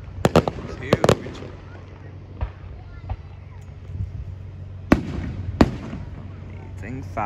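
Fourth of July fireworks burst in sharp, loud cracks, a quick cluster at first and a few more booms later, over a steady low rumble of crowd noise.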